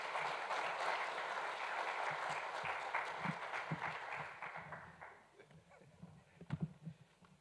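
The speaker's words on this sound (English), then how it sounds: "round of applause" An indoor audience applauds a minister at a space weather capability launch: several seconds of loud, dense clapping that gradually thins out and fades into a few scattered claps and small noises.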